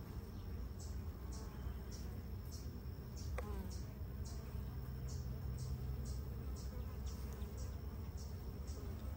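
A honeybee colony in a field hive gives a faint, continuous low buzzing hum, steady throughout, with soft regular ticking overhead and no clear speech.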